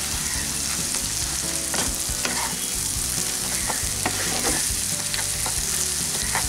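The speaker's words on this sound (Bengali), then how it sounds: "ভালো করে আলুটাকে মিশিয়ে নেব।" Boiled potato being stirred into a fried spice mixture in a pan, with steady sizzling and frying under repeated scraping strokes of a spatula against the metal, close and loud, no talk.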